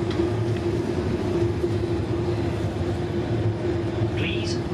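Inside a GWR Class 802 train running between Didcot Parkway and Reading, a steady, loud rumble with a constant hum continues throughout, with a brief higher squeal near the end.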